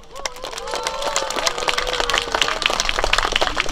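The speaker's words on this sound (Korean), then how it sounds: "잠깐 일어나서 좀 환영의 박수!" Welcoming applause for council members rises from the crowd at the opening ceremony of the Nogeun-ri garden festival in Yeongdong's peace park. Many hands clap in a dense patter that grows steadily, and a voice calls out above it.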